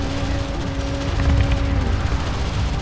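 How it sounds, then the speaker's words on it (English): Mortar launches and sustained gunfire from the sci-fi strategy game Homeworld: Deserts of Kharak, a dense continuous battle roar with steady tonal engine hum beneath, loud throughout with no clear single launch standing out. "Mortar launch."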